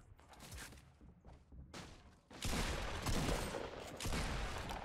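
Rapid gunfire from a Fortnite Battle Royale match, with bursts of shots and impacts that grow louder and denser in the second half, carrying steadily to the end.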